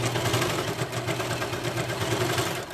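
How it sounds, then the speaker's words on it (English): A sewing machine runs continuously while stitching a seam on one leg of a pair of leggings. Its motor gives a close, steady, whirring hum with a fast mechanical flutter and no pauses. "I'm basically sewing a seam on one pant leg"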